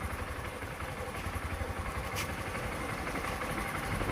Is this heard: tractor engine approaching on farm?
yes